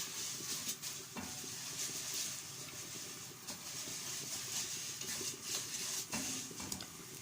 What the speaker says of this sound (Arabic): اكمل تحمير الشعريه وارجع لكم تاني يا حبايب قلبي